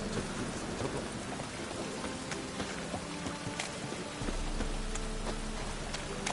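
Steady rain pours down in The Witcher 3 video game, a dense hiss with scattered drops and a low rumble of thunder beneath, continuous and fairly quiet, with no talking.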